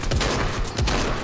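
Video game gunfire in a short, loud burst of rapid shots, close and harsh, with no talk over it.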